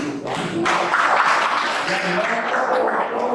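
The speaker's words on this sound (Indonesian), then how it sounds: "Tepuk tangan" Brief applause breaks out in a classroom lesson, a short burst of clapping from a group of students over a few seconds, moderately loud and close.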